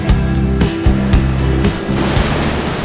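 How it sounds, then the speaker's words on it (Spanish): Surf at Pacific Beach in San Diego, California rolls in a loud, continuous wash of breaking waves, with a steady low rumble and repeating surges, and no talking. "Se escucha todo el oleaje."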